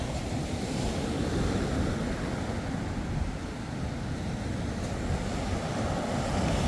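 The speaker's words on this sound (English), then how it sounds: "The waves are still pretty rough." Rough ocean waves crash steadily onto a beach, a loud, continuous roar of surf with wind noise and no pauses, no voices present.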